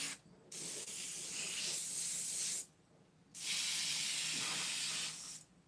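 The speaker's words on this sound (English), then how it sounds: "had some in the throat of the airbrush that was still there that you could still paint with" Airbrush spraying India ink in short, close hissing bursts, three airy sprays separated by brief pauses, soft and steady.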